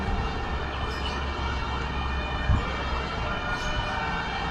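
A wailing fire truck siren sounds continuously amid heavy background noise at a fire in Santa Mesa, Manila, somewhat distant, with no clear talk.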